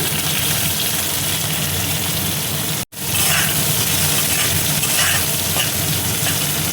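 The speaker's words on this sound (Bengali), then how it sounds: "এবার দেখো পেঁয়াজ কুচি দিয়ে দিচ্ছি" Chopped onions fry in a pan for mixed moong dal, a loud, steady close-up sizzle that cuts out for an instant and then carries on hissing evenly.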